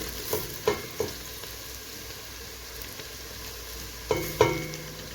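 Chopped tomatoes go into frying onions for shrimp soup, a soft steady sizzle punctuated by a few sharp utensil knocks and stirring clatters, quiet and close.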